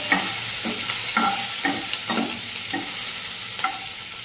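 Curry leaves and green chillies crackle and fry in hot oil for a moong dal varan, a steady sizzle broken by about eight sharp stirring scrapes at a regular rhythm, close and moderately loud with no voices.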